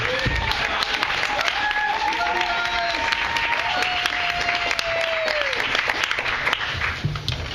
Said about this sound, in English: everybody have a round of applause for everybody who's worked so hard to start up this space here